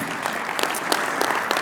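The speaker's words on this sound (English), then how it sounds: "Big round of applause for them." An audience at a conference keynote luncheon applauds, a dense clatter of many hands clapping close and continuous for a moment.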